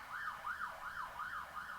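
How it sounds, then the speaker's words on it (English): An ambulance siren wails in a steady rising-and-falling cycle, about five sweeps in under two seconds, faint and distant as it passes. "I'm just waiting for that ambulance to go by."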